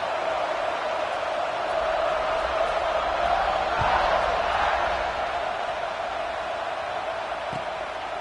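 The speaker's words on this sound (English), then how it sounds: "this crowd is buzzing after that last score." A football stadium crowd at an NCAA football game buzzing after a score, a broad steady roar of many voices with a commentator talking over it.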